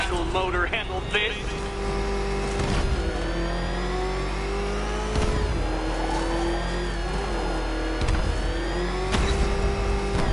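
Car engine revving hard in Batman Arkham Knight, a loud sustained whine that climbs and shifts through several surges, with a voice speaking over it throughout.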